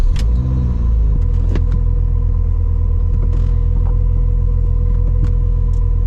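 A car that isn't road legal, fitted with a mini slave cylinder, runs close to the microphone, giving a loud, steady engine drone with a strong low rumble; the pitch settles after about a second and then holds evenly, with faint clicks.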